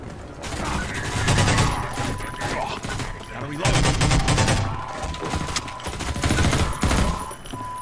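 Rapid SMG bursts from Half-Life 2 MMod, a modded shooter, in repeated loud volleys with brief pauses, heavy layered gunfire filling the scene amid combat noise.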